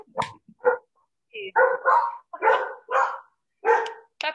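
Puppies bark in a series of about eight sharp, separate yips and barks, loud and close, with short silent gaps between them.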